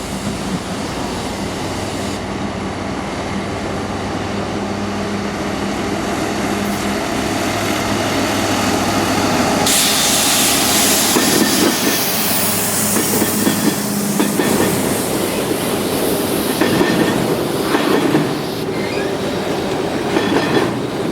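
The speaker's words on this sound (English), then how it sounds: "I look to my left, and what would you know? Another train came." A train rumbles past close by in Atlanta, a steady heavy roar with rhythmic clatter of wheels and occasional squeals, building louder partway through.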